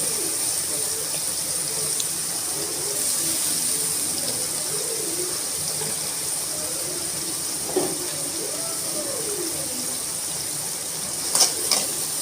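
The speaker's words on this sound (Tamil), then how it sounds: "இப்போ அரைச்சி வச்ச வெங்காயம் நம்ம அதில் போட்டுக்கிறோம் ஸோ வெங்காயம் நல்லா வதங்கட்டும்" Ground onion paste sautés in a hot kadai with cinnamon and cloves for a peas and potato kurma, giving a low, even sizzle with occasional light stirring clinks and a brief faint voice.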